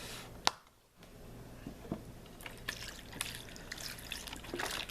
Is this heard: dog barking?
no